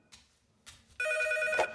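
A telephone rings with a bright, steady electronic trill that starts abruptly after two faint soft noises, close and fairly loud with no voice over it.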